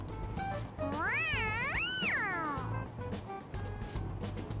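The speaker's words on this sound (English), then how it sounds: "It's a toy. It meows when you press on its head." A toy cat in Persona 5 gives two drawn-out, wavering meows when pressed on the head, close and clear over a low background hum, followed by quieter game sounds.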